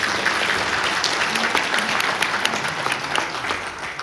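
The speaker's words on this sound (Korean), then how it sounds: "박수 한번 쳐주셔야 됩니다" Dense audience applause fills a hall during a speech on AI and digital transformation, a steady wash of many hands clapping at close range that holds without a break.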